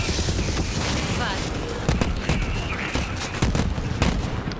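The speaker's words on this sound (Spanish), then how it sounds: "Fuegos artificiales." Rapid crackling bursts and pops of fireworks in Borderlands 3 go off in quick succession, loud and close, layered over a steady rumbling background.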